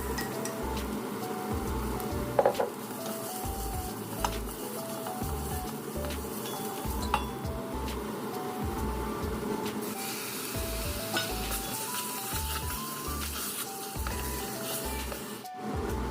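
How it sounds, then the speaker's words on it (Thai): Thai curry paste stir-fried in a pan for a banana stem curry with pork cartilage: steady sizzling with rhythmic stirring and scraping strokes, close up, under a light tinkling background melody. "ผมจะผัดเครื่องแกงให้หอมก่อนนะครับ"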